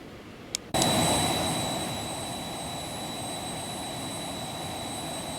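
A jet engine in the X-Plane flight simulator starts with a sudden loud onset, then settles into a steady roar with a high-pitched whine above it, with no voices.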